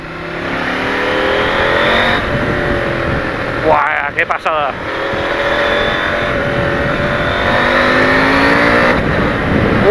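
A KTM 890 Adventure motorcycle with an AliExpress aftermarket exhaust accelerates hard on the road, its loud engine note rising in waves with a brief stutter at a gear change, while a man exclaims excitedly over it.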